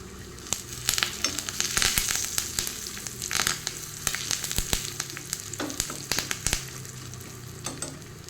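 Curry leaves and asafoetida hit hot tempering oil with garlic for a cucumber and jackfruit seed curry, producing a steady close sizzle punctuated by sharp pops and crackles throughout.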